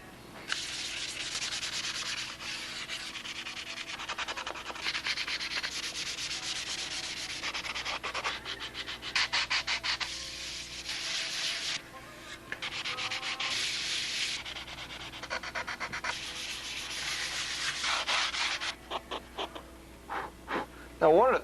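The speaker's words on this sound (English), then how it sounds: "I want all this stuff sanded down" A Spitfire model is sanded by hand with steady rasping strokes that run almost continuously for about twenty seconds, close and fairly loud, with brief pauses between passes.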